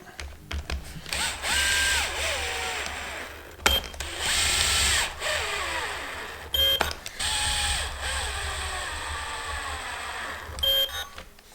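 A power driver runs screws into the body of a Festool Carvex jigsaw in several short whirring bursts of a second or two each, the pitch rising and falling with each screw and separated by brief pauses.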